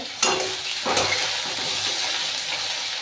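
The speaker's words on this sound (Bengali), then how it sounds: "আমার এখানে দেখালাম আলুটা ভাজা হচ্ছে" Potato pieces frying in hot oil, a loud close bubbling sizzle with a couple of sharp stirring scrapes near the start, then a steady hiss.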